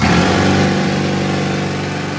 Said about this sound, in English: That's a jackhammer driller.